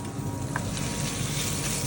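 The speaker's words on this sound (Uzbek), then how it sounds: "Piyozimiz yaxshilab suv chiqqandan keyin tovuq go'shtini tashlaymiz." Chicken pieces frying with onion and garlic in hot oil, a steady close sizzle that holds evenly throughout with no voices.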